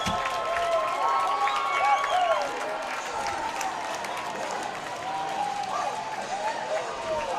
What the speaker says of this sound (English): The crowd definitely getting into this. The hometown Arkansas Razorbacks giving them something to cheer about.